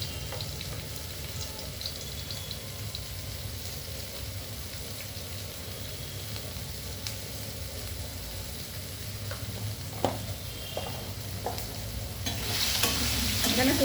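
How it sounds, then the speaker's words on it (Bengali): Dry red chillies and five-spice seeds sizzle in hot oil as a tempering for a pumpkin and tomato dish, a steady close crackle with occasional stirring clinks that swells louder toward the end. "দেখুন, দিয়ে দিচ্ছি দুটো শুকনো লঙ্কা ফোড়ন"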